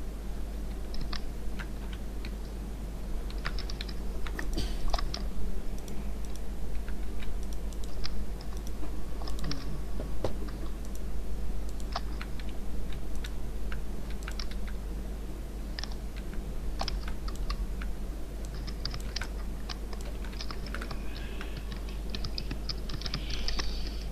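Rapid, loud clacking of computer keyboard keys continues throughout over a steady low hum, with no talking.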